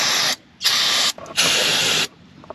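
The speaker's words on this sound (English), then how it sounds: "spray it down with a little breakaway" Two long hissing bursts of brake cleaner sprayed from an aerosol can onto a car engine, each about half a second to a second, with a short sputter between them.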